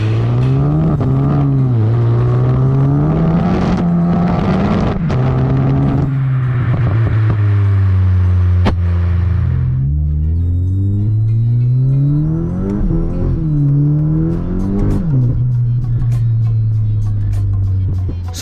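A Skoda VRS245 turbo car revs hard while driving, its engine note climbing and falling through repeated accelerations, loud and close, with a brief quieter lull midway.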